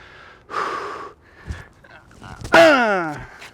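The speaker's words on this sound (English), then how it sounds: "as I go into contact, I'm going to let out a loud grunt" A player lets out a loud, sharp grunt at contact on a tennis serve, a short voiced exhale that rises and trails off; softer breaths and rustling come just before it.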